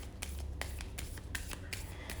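Archetype cards that are hard to shuffle are shuffled by hand; there are quick, close riffle bursts repeating several times in a steady rhythm over a soft background, and no speech.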